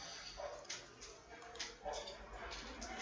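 A dog gives short yips, barks and whimpers at a distance, several faint bursts spread irregularly over a few seconds beneath a steady background hiss in a room.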